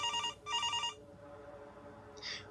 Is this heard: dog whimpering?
no